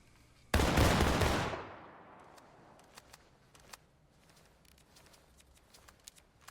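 A single massed volley of Civil War–era musket fire in War of Rights erupts with a loud crashing blast that rolls away into a long fading echo, followed by scattered faint distant pops.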